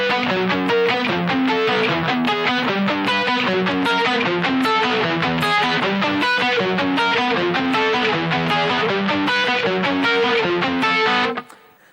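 Distorted electric guitar plays the middle section of a song, a loud, steady run of driving chords and riffs with no talk, stopping abruptly near the end.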